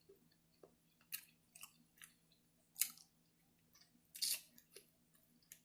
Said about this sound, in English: Especially with these crunchy vegetables.